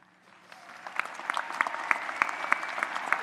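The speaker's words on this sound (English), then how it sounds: "You deserve an applause." Commencement audience at a fall college ceremony breaks into applause, clapping building from a quiet start into steady, dense hand-claps from a large crowd that carry on to the end.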